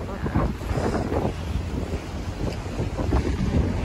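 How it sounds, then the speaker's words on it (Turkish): Strong wind blows beside the Bosphorus near Beylerbeyi Palace, buffeting the microphone in continuous low rumbling gusts, with faint water and boat sounds beneath. "Bugün hava biraz rüzgarlı"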